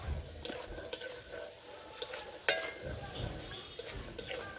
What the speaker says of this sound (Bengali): মটরশুঁটি ভাজা হয়ে গেছে,